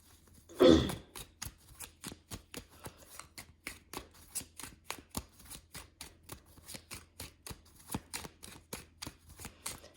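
Tarot cards are shuffled close by in a quick rhythmic series of crisp riffling snaps, one louder burst at the start followed by many evenly spaced flicks.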